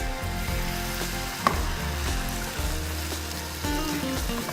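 Dry Spanish white wine, about two cups, poured into a hot pan for cooking black sea bass, bursting into a loud, steady close sizzle and crackle that runs continuously throughout.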